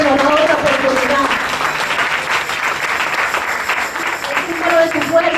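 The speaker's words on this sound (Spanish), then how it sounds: "Un aplauso para el Señor, porque siempre nos da otra oportunidad." A church congregation bursts into loud, sustained applause during a sermon, a dense wash of clapping hands that swells, holds and tapers, with a voice speaking over the start and the end.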